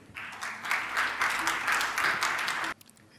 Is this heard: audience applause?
yes